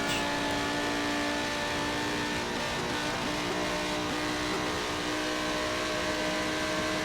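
Race car with transmission damage in the Forza Motorsport 7 video game, a sustained engine drone with steady tonal whine, continuous and fairly loud, no talk over it.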